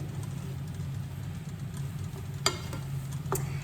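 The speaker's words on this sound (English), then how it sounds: "let these saute for, let it saute for about 8 to 10 minutes here" Tofu sautés in a pan for lettuce wraps, giving a soft, steady sizzle over a low background hum, with a couple of sharp clinks of a utensil against the pan and no talk.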